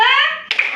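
Children's hands come together in a quick, slightly ragged clap during a classroom counting game, just after a voice calls out.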